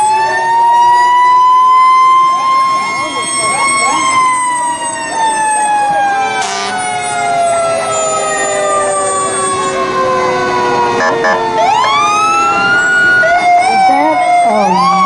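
Fire truck siren wailing loudly throughout at a Colony Days parade in Atascadero, its rising and falling tones sweeping up and down near and steady, with crowd chatter and brief speech underneath.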